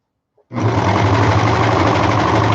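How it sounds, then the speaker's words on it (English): A sewing machine starts up after a short silence and runs steadily and loud, a fast even motor hum with rapid needle ticking, stitching the side seams of a long prairie skirt. "just stitch your 2 sides together"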